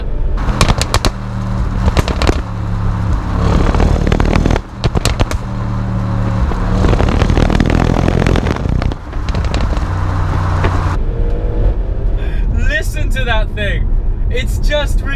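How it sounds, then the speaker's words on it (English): Audi RS6 Performance twin-turbo V8 running loud and close, a dense continuous engine roar with sharp crackling pops and bangs from the exhaust, briefly dipping twice before a rougher, sputtering stretch near the end. "Introducing the Stuttgart Symphony that is the V8 twin turbo in the"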